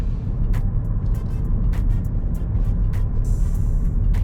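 A 2.0 TDI Audi A4 Avant B8 estate cruises along, its diesel engine and tyre roar forming a loud, steady low rumble with a few brief clicks on top and no talk.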